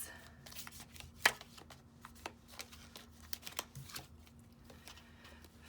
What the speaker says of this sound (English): Let's get an angel card of advice.